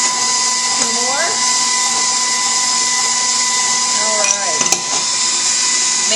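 Electric mixer beating sugar cookie dough: a steady high motor whine runs throughout at close range, with brief scraping and clattering against the bowl.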